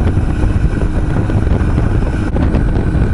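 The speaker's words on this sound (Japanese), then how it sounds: "3速でフルスロットル。" A Honda Super Cub motorcycle runs at full throttle in third gear, its steady engine drone mixed with strong wind rush across the mic, loud and continuous throughout.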